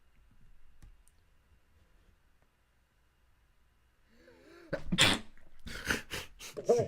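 A single sharp human sneeze bursts out near the end, after a long quiet stretch, amid a conversation about three-player circular chess; voices follow right after it.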